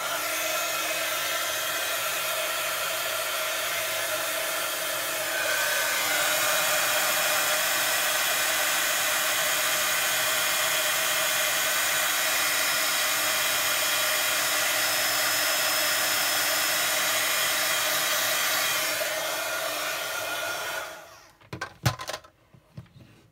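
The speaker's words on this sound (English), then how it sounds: "I'm going to be heat embossing again, people." Heat tool used for heat embossing a stamped card, a steady loud blowing roar that runs almost unbroken for about twenty seconds before cutting off into a few faint knocks.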